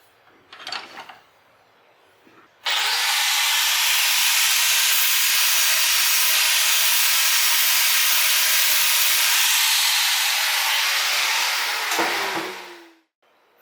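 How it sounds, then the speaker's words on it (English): A handheld grinder runs steadily against the cut-off stub of a stock shifter peg on a Honda Shadow motorcycle, giving a loud, sustained hissing whine for about ten seconds before spinning down. "so we're going to clean that up with a grinder."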